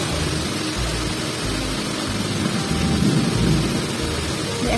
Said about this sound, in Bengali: প্রচন্ড ঝড়ের মতো হাওয়া হচ্ছে